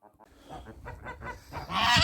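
Several geese honk and cackle close by in a quick series in a pen, growing louder toward the end, with some duck-like calls mixed in.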